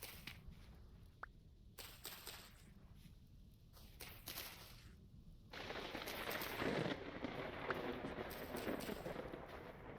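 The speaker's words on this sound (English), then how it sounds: "is that lightning sounds from my game, or is that lightning sounds from granite sand?" Thunder in the video game Vintage Story: a faint, distant rumble with some sharp crackles that swells into a louder, sustained roll halfway through.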